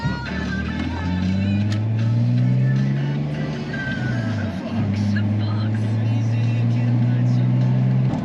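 A Nissan Skyline R34 converted to a manual gearbox pulls steadily with a loud, close engine drone whose pitch climbs and then drops at a brief gear change before rising again.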